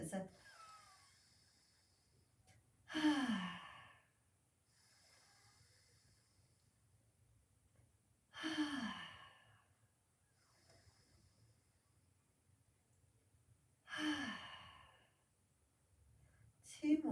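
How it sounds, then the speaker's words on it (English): Ujjayi breathing in a yoga session, three slow, loud throaty exhales from the back of the throat spaced several seconds apart, with quiet pauses between. "I want you to breathe out from the back of the throat"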